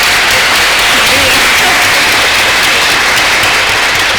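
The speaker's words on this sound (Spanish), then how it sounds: "yo les recomiendo que no pierdan el tiempo en los aplausos" Applause from a lecture audience, loud and close dense clapping that continues steadily for the whole span with some voices underneath.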